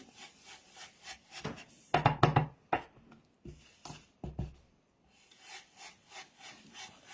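Brush applying green paint to a pop-up gift card, heard as soft, repeated rubbing strokes at close range with a denser burst of brisk scrubbing partway through.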